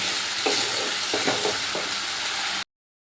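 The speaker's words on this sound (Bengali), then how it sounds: "লঙ্কার গুঁড়োটা একটু মশলার সাথে মিশিয়ে দিচ্ছি" Chili powder being stirred into spices in a frying pan over steady oil sizzle, with a few soft scraping strokes near the start and middle before it cuts off abruptly.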